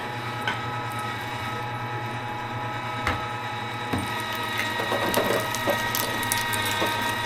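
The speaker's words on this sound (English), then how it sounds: "this grinder does a really, really nice job" An electric meat grinder runs continuously, grinding Italian sausage meat. A steady mechanical hum and drone carries throughout, broken by intermittent clicks and clunks of the mechanism.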